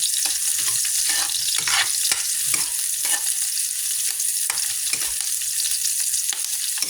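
Onions frying in a pan as the first step of a squid dish, a steady bright sizzle with repeated scraping stirs breaking through at an uneven rhythm, no voices.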